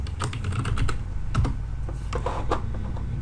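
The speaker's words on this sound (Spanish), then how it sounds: "Ahí está mi teclado, ahí." Rapid typing on a computer keyboard, with quick irregular clicks and keystrokes close up and no talking.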